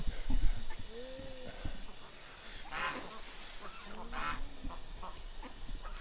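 Ducks being fed give off honking, quacking calls at a moderate distance, scattered in bursts over steady background noise with faint voices.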